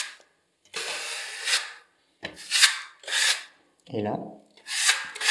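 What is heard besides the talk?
smoothing wall filler with a small filling knife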